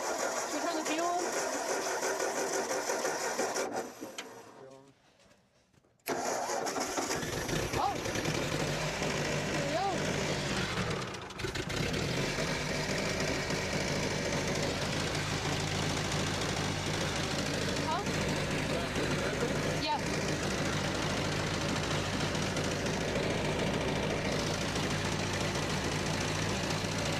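A 1950s Ford 8N tractor engine cranking and trying to start, a rapid rhythmic chugging rattle that runs loud and steady, cuts out briefly, then resumes, with people talking over it.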